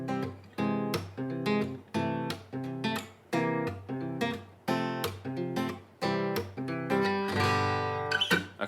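Guitar playing a bridge-style passage built on an augmented passing chord, with steady strummed chords in a repeating rhythm, close and loud, no talking.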